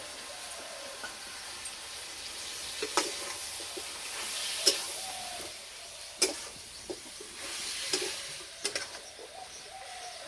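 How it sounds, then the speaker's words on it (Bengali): Chicken sautéing in a pan with ginger-garlic paste and spices, a faint steady sizzle with occasional sharp stirring clicks and scrapes, fairly quiet, with no talking. "হালকা আছে মাংসটা কষিয়ে নেব"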